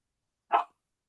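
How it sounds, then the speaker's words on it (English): A single short dog bark, close and fairly loud, standing alone against silence, consistent with a vicious guard dog. "Vicious guard dogs."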